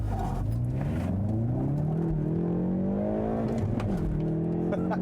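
A Hyundai Veloster N engine drones steadily with a rising, revving exhaust note that climbs in pitch, then dips and settles, continuous throughout.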